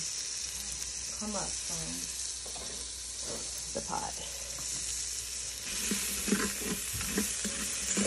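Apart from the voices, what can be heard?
sautéing green and white onions in Instant Pot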